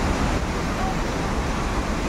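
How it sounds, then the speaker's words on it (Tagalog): Rushing water of Tinuy-an Falls in Bislig, Surigao del Sur, a constant dense roar of cascading water filling the air at close range, unbroken for the whole moment. "Dahil sa lakas ng tubig, ayan ang naririnig nyo."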